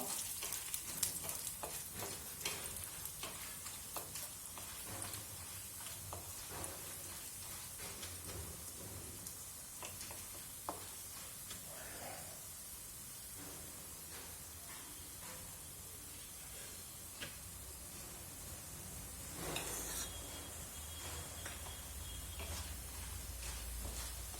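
Dal roasting in a pan for South Indian tomato chutney gives a soft, continuous sizzle with occasional stirring scrapes, quiet and steady throughout, no one speaking.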